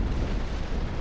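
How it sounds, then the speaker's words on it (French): A warship blows up in the naval combat video game Naval Action, a single short, dense, low boom with crackling burst texture that fills the moment at moderate loudness. "il a explosé super vite"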